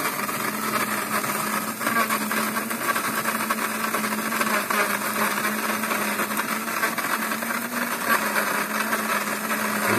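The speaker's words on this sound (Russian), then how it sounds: "сейчас вот мы перемолим." A Nivona 520 coffee machine grinds whole coffee beans, a steady, loud motorized whirring that runs unbroken for the full stretch with no voices over it.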